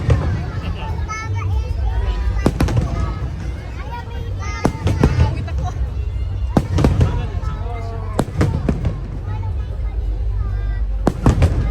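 Fireworks crackle and bang in repeated sharp bursts at a pyromusical show over a steady hum of crowd chatter and children's voices.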